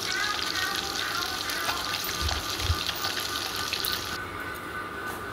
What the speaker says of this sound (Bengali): আমি এখানে ওর জন্য মাছ ভাজা বানাচ্ছি